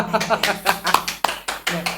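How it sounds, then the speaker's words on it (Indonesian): Audience in an Indonesian talk show studio clapping hands, a quick burst of close, sharp claps over a couple of seconds while voices talk over them. "Tepuk tangan. Tepuk tangan."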